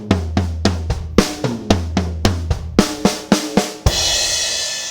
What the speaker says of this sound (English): we'll play our last 4 notes on the snare drum, it will sound like this